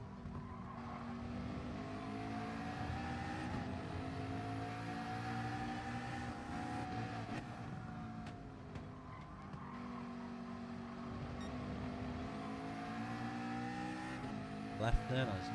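Race car sliding through a hairpin in a racing video game, a continuous engine roar with shifting revs and tire squeal, fairly quiet, with a sharp knock near the end.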